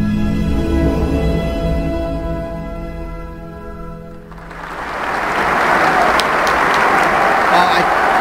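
Crowd applause in a concert recording of Jussi Björling singing O Holy Night in Swedish, loud sustained clapping swelling in as the held orchestral music fades out.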